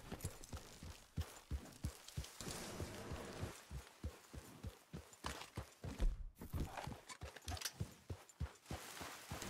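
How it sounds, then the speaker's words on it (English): Horse hooves from the video game Red Dead Redemption 2 during a chase after a wild albino horse: rapid, irregular galloping thuds and clip-clops in quick succession, fairly quiet, with a brief pause midway before the hoofbeats resume. "Horse!"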